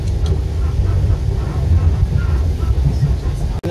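Inside the Leonardo Express electric train in Italy, a continuous low rumble fills the carriage at a steady level, with murmuring voices underneath.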